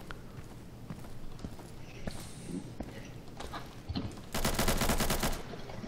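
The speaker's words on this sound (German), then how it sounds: "Okay, hier wird geschossen." Gunfire in the video game Insurgency: scattered single shots and clatter build into a loud, rapid automatic burst lasting about a second, with faint footsteps and low talking around it.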